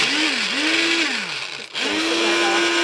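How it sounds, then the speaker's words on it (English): A kitchen blender whirs loudly as it blitzes mixed peppers, its motor pitch dipping and rising under load, then cutting out briefly before spinning back up to a steady high whine. "So all you do is you put your mixed peppers in here, and you just blitz them"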